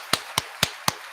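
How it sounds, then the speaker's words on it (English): Hands clapping: four sharp, evenly spaced claps about a quarter second apart, close and crisp over a quiet background. "Nori claps."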